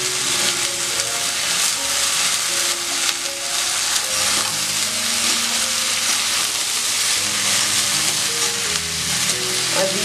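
Egg and capsicum sizzle loudly and continuously in a hot pan, a dense, steady frying hiss with faint stirring scrapes and no talk.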